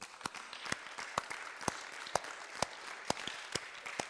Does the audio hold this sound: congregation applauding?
yes